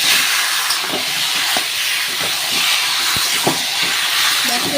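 Taro pieces dropped into hot oil with well-fried onions give a steady, close broadband sizzle and hiss, broken by scattered clicks and knocks of a spoon against the pan.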